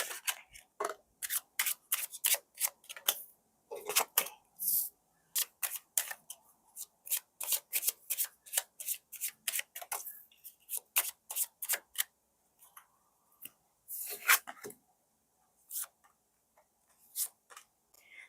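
A deck of tarot cards is shuffled at close range: rapid runs of crisp clicks and riffles in quick bursts, thinning into sparser taps toward the end, with quiet gaps between and no talking.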